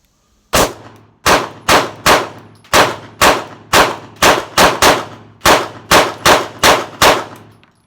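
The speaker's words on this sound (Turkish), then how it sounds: "Bir tane seri gideyim bakayım nasıl olacak arkadaşlar." A SAR9 pistol fitted with a flat PRO trigger, polished parts and lightened springs fires a rapid string of fifteen loud, sharp shots in quick uneven bursts, each ringing briefly before the next.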